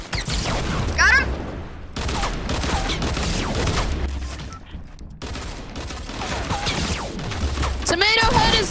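Rapid bursts of dual pistol fire in a Fortnite battle royale match, loud and close, crackling in repeated volleys across the whole stretch with excited voices talking over the shots.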